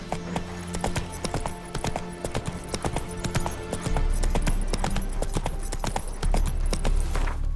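Horse hoofbeats clip-clop in a steady galloping rhythm in The Witcher 3, loud and close, with the pace quickening and a heavier rumble of hooves in the second half.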